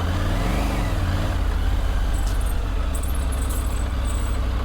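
A Triumph Tiger 900 Rally Pro adventure motorcycle rides a slippery clay track, its engine a steady low drone mixed with wind rush, with a few brief high clinks late on and no talk.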